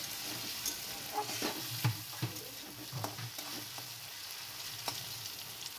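Potatoes fry and sizzle in a pan in a village home kitchen, stirred with a steady scraping rhythm and a few sharper clicks, close and continuous with no talking.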